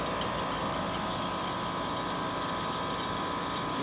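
A central air conditioner unit outdoors among trees, suspected of a rattling motor fault, gives off a steady, moderately quiet mechanical hum and whir with no breaks.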